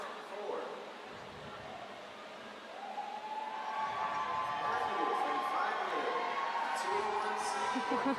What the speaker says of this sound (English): You hear him cheer.